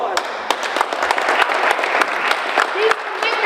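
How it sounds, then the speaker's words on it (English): A room full of people at a school event for dads gives a round of applause, steady, dense clapping that carries loud and close from start to finish. "let's give ourselves another round of applause"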